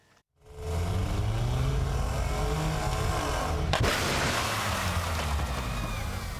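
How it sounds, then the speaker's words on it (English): Two cars drive toward each other for a staged head-on crash at 50 km/h at a festival stunt, their engines building into a loud, sustained drone, with one sharp brief click midway. "2 cars colliding head-on at 50 kilometres an hour"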